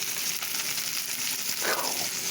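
Butter sizzles and fries in a hot pan, a steady hissing crackle with a brief stirring scrape near the end.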